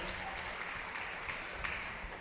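In a church during a Telugu sermon, the gathered audience claps together in praise, a steady wash of many hands at low level that continues evenly without speech.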